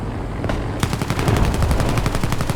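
Rapid, loud machine gun fire from an aircraft strafing in the War Thunder combat game, a fast continuous burst of evenly spaced shots that begins after a brief quieter lead-in.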